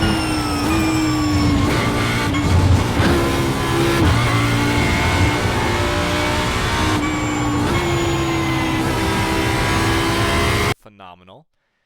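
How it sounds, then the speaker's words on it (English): A V10 race car engine in a video game screams and revs continuously at high pitch, shifting up and down as it accelerates, loud and close, then cuts off abruptly. "It's got a V10 in it,"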